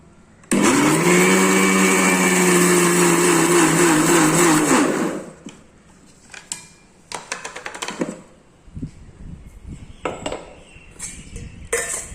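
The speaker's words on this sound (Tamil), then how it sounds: "இந்த நசுக்கி வச்சுக்கிற எட்டு பல் பூண்டை போட்டு நம்ம திருப்பியும் ஒரு ஓட்டு ஓட்டிகிட்டு வந்துடலாம்" A mixer grinder roars loudly for about four seconds, grinding spice powder with crushed garlic cloves, then cuts off, followed by scattered clicks and taps of the jar and lid.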